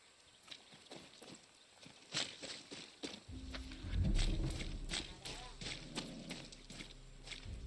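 Horse hooves clip-clopping in Far Cry 6, a steady run of faint hoofbeats that carries on beneath a low rumble and someone talking.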